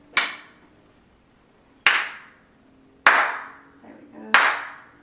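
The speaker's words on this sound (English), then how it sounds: "Even the little claps are nice and crisp and echoing around the walls." Four sharp single hand claps ring out in a room, each crisp attack followed by a short echo off the walls, spaced about a second apart with a faint voice between two of them.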